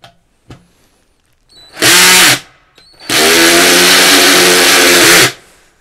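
Topshak TS-ED3 cordless drill screwdriver run at clutch setting 16, two close, loud whirring bursts, a short one then a longer steady spin of about two seconds, with faint clicks and quiet gaps between.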